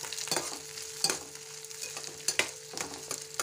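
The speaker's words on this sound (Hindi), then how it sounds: "लहसुन अदरक और ये लाल मिर्ची जो है साबुत ये, और फिर हम इसको चलाएंगे एक बार इस तरीके से अच्छे से, और इसको अच्छे से भुनने देंगे" Garlic, ginger and whole red chillies frying in a pan, a soft steady sizzle broken by several clinking stirs of a spoon, close and fairly quiet with no voices.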